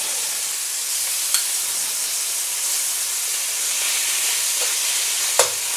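Beef strips sear in a smoking hot wok, giving a steady broadband sizzle and hiss with a couple of sharp clicks or spatters standing out over the constant frying.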